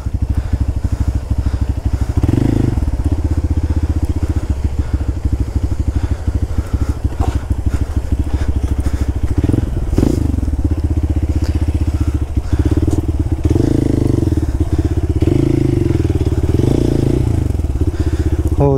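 A motorcycle rides off-road on a forest trail near Perandapalli waterfalls in Tamil Nadu. The loud, near engine roars and revs continuously, with rough clattering from the terrain throughout.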